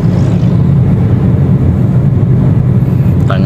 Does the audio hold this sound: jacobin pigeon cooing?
no